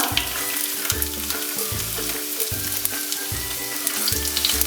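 Chopped garlic sizzles steadily in hot oil in a pan for a Kerala-style chicken stew, with close, continuous frying crackle and a few stirring scrapes, and no talk.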